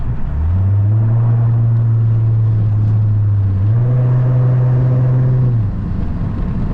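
Lexus IS350 car driving through an underpass, a loud steady engine drone with strong harmonics that steps up in pitch partway through as the car accelerates, then drops away near the end, with no talking.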